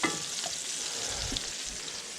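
Rehydrated hen of the woods mushrooms fry in a pan with a steady, close sizzle and a few soft stirring clicks, no voices.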